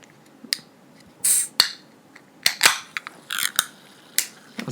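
A can of LaCroix sparkling water is cracked open up close: sharp metallic clicks, a short fizzy hiss of escaping gas, then more crisp clicks and handling noises, with no talking.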